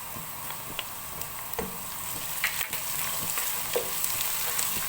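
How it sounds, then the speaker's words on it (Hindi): Browned onions with ginger and garlic fry in a pan for vegetable pulao, giving a soft steady sizzle with a few scattered clicks and light stirring taps and no voices. "अब हम इसमें अदरक और लहसुन ऐड करेंगे।"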